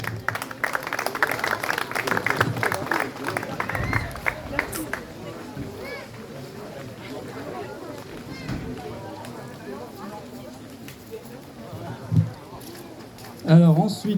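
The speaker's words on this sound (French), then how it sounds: "Merci Steven, applaudissez-le encore s'il vous plaît." A crowd at the France Koi Show 2025 awards ceremony claps for a prize winner, applause strongest at first and then thinning into scattered clapping, with a voice speaking over it toward the end.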